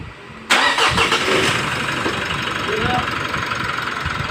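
A Mitsubishi Montero engine catches on the first crank with a sharp onset, then settles into a steady, fairly loud idle close by.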